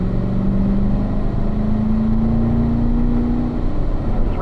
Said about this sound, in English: Turn to the right, Bob. And accelerate smoothly right there.